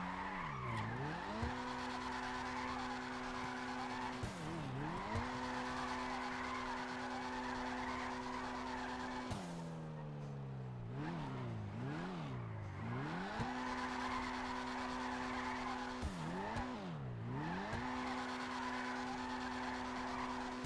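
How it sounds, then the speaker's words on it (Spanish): A car drifting in a racing video game: the engine drones and repeatedly dips and climbs in pitch as the tires squeal and skid through long slides, steady and close with no talking over it. "no estoy acostumbrado a hacer drift con este coche"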